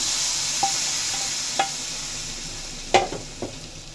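A hot tempering with asafoetida is poured into horsegram flour sambar, leaving a soft continuous sizzle with a few sharp spoon clinks and taps against the pot.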